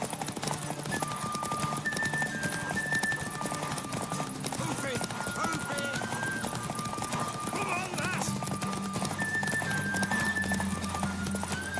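Horse hooves clip-clopping steadily in The Witcher video game, with occasional neighing, heard under continuous voices talking and music.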